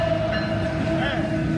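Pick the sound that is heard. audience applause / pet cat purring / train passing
train passing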